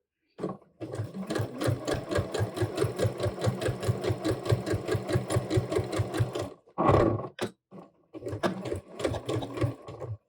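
A sewing machine edge-stitches around a pocket on a pair of pants, running in a fast, even close-up hum of rapid needle strokes, with a short pause and a brief burst before resuming.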